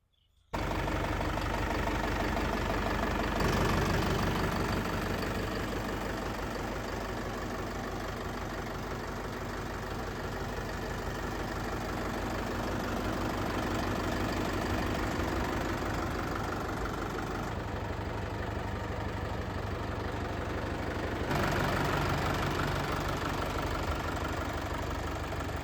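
A Mahindra 575 DI Bhoomiputra Power Plus tractor diesel engine idles steadily nearby for a long stretch, a low chugging rumble with slight shifts in tone and no voices.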